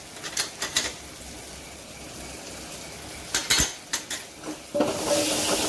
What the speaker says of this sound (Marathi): त्याला पण छान असं फोडणीमध्ये मिक्स करून घ्यायची